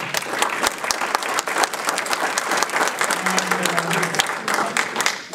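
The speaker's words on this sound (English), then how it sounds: "Let's give these candidates a big round of applause." An audience at a Monee, Illinois village clerk candidate forum applauds the candidates, a dense, steady wash of many hands clapping at once that continues throughout with a faint low hum.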